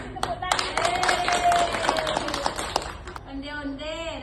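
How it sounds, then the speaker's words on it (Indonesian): A group claps and applauds in a dense, steady burst for about three seconds, with some voices mixed in, then the clapping gives way to someone speaking. "Oke, kita kasih tepuk tangan."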